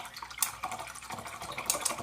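A watercolor brush is swished and rinsed in a container of water, giving soft, brief splashing and trickling sounds that come and go close by, with no talking.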